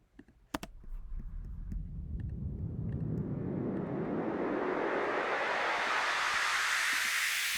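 Rising sweep of white noise through a low pass filter, starting as a dull rush and steadily opening into a bright hiss over several seconds, loud and alone after a few faint clicks at the start.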